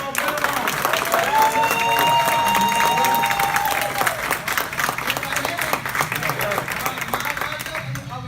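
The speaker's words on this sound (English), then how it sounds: "Give him a round of applause." Audience applause with cheering and whoops at a mindset talk event, loud and sustained through the clip, with music tones and a voice briefly rising above the crowd noise.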